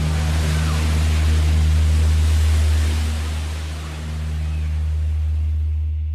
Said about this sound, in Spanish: En el mar, las olas provocaban el caos.